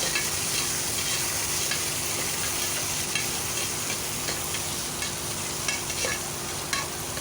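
Onions sauté in a pan for sundal rice, with a continuous, even sizzle and faint spatula scrapes and clicks scattered throughout, close and without talk.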